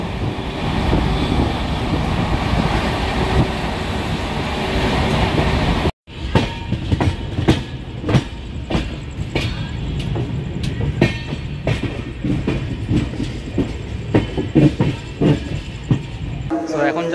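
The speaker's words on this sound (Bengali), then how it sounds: "130-এ ট্রেন চলছে এখন প্রায়।" The Kriya Yoga Express runs at speed, with steady wheel rumble and rhythmic clickety-clack, a brief dropout near six seconds, then sharper rail clicks and rattles continuing close and loud.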